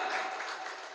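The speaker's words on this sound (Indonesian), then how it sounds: "Yang percaya tepuk tangan buat Yesus Kristus." Congregation clapping during a church worship service, a steady, fairly faint burst of applause with no voices over it.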